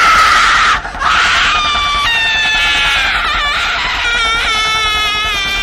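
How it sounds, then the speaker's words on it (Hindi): A woman in red clothes screams long and loud, a sustained shrill cry with a brief break near the start, then wavering on alone at full intensity. "वो लाल कपड़ों वाली औरत उस आदमी को देखकर पूरी तरह चीखने लगी"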